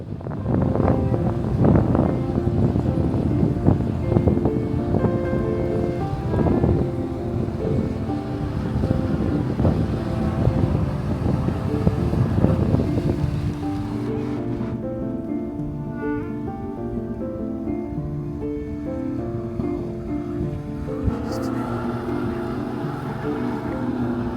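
A maintenance boat's motor drones on a lake at Sunset Park, Las Vegas, amid wind and lapping waves, loud at first and then easing as it moves off, leaving rolling wake sounds.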